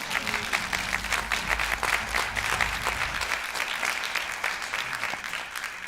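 Applause from a theatre audience at a musical tribute show, a dense steady patter of many hands clapping throughout, fairly close and loud, with brief voices mixed in.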